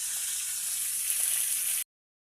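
Cumin seeds sizzle and crackle steadily in oil in a pan, a bright continuous frying hiss close by, cutting off abruptly after a couple of seconds.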